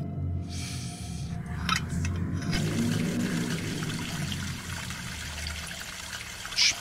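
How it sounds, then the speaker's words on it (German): A faucet runs in the horror game True Fear: Forsaken Souls, a steady trickle and splash of water that continues throughout, fairly close, with a brief clink near the end and no talking. "Da ist der Wasserhahn."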